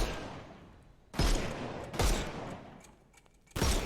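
Gunfire in a Sherlock Holmes video game: three sharp, loud shots spaced unevenly, each with a thick decaying tail, over a quiet background.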